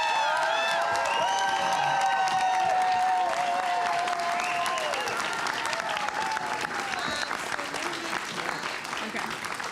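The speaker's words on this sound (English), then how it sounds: "Give them a round of applause." A full audience applauds and cheers as two mayoral candidates, Amanda Burrows and William Azaroff, come onstage at a OneCity election night event, with steady dense clapping, whoops and raised voices sustained throughout.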